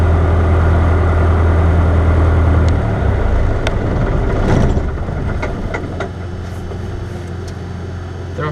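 A Piper PA38 light aircraft engine idles loudly and then runs down as the mixture is pulled to idle cut-off, its low throbbing drone fading and roughening into a quieter wind-down.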